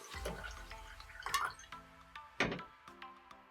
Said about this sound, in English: Over here with the electrolyzed reduced water, just go ahead and pour it.